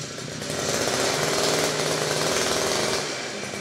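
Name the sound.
trolley grass cutter running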